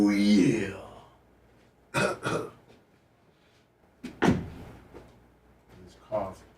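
A few throaty coughs and throat-clearing bursts, short and close, separated by near silence with a faint voice in between.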